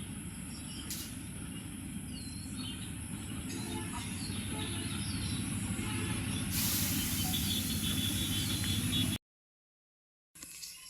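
A long intercity passenger train rumbles past at length with a steady hiss and rattle of many coaches, a brighter surge midway, then abruptly cuts out before resuming faintly.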